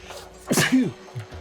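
One sharp human sneeze bursts out with a quick intake and explosive release, close and clear over faint game-like background sound.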